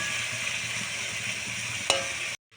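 Lote fish sizzles in a kadai as it is lightly sautéed with turmeric, a steady close frying crackle with a brief sharp clack of a utensil near the end.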